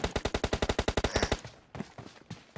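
Rapid automatic gunfire in an online multiplayer shooter game, a fast loud burst of about fifteen evenly spaced shots lasting over a second, followed by a few scattered softer shots and faint game noise.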